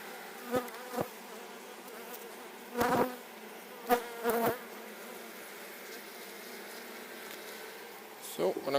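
Honey bees buzz steadily around an open hive during an inspection, a continuous low drone with a few louder bursts as bees pass close by, and no talking.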